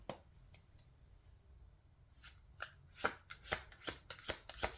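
Tarot cards are shuffled by hand, starting as faint sparse riffles and building into a quick, close series of crisp snapping bursts in a quiet room.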